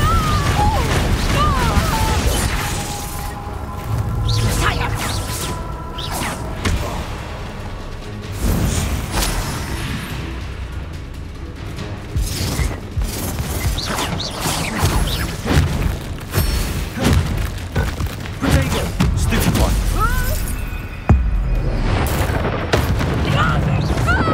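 Repeated Confringo spell blasts from Hogwarts Legacy, heavy booming explosions and crashes in irregular bursts throughout, with battle clamour and voices mixed in.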